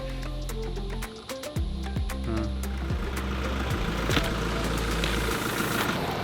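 A camper van engine idling on an icy parking lot, a close, steady low rumble with a brief dip and some clicks and knocks before the engine note rises.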